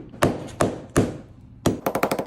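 Sharp taps crack the broken back glass of an iPhone 11 under repair, three separate knocks followed by a quick run of six rapid taps, close and crisp.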